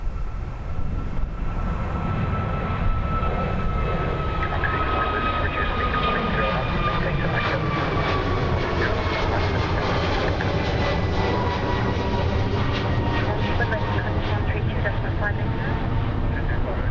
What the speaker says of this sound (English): Aircraft ahead of you is going around.